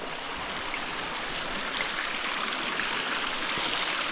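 Cold, clear spring water flowing steadily in the Canadian wilderness, a continuous close rushing and trickling wash with no voices.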